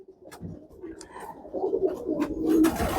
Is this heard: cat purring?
no